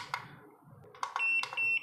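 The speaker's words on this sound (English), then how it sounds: "turn off or turn on the buzzer or the key beep" A few short electronic key beeps from a SkyRC IMAX B6 V2 battery charger, one held briefly, sound close by over faint clicks and background hiss.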